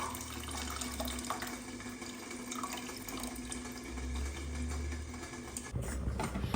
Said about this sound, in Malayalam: നമുക്കിനി പുളി ഒഴിക്കാം.